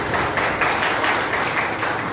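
A crowd at a direct-selling business meeting claps, a brief burst of dense, loud applause from many hands, steady throughout.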